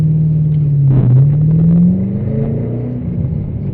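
A car engine picked up by the built-in microphone of a DDPai M6 Plus dashcam inside the vehicle, a loud, steady low hum that rises in pitch as the car speeds up, then eases off.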